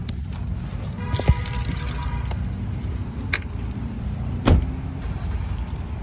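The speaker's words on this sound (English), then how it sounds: "So let me turn off the car." A car is switched off as keys jangle in short bursts, with a couple of sharp clicks and a low idle hum that carries through the whole stretch.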